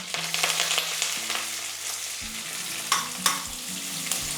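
Chopped onion with curry leaves sautéing in oil in a pan for a hotel-style poori sagu, with soft steady sizzling and a few sharp scraping stir strokes close by, no voices.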